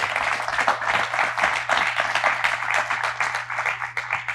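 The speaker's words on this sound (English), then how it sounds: "give him a round of applause" An audience applauds a guest at a televised policy talk event, a continuous crowd clapping with a faint low hum underneath, steady in level across the few seconds.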